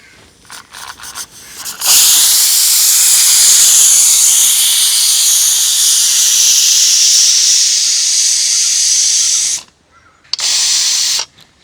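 Steam bursts loudly from a pressure cooker after cooking duck roast, a long continuous hiss of about eight seconds preceded by brief sputters, then a short pause and one more shorter blast.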